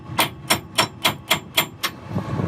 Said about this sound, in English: Just working with this denting tool right now, trying to create a head somewhere for the drill bit to rest in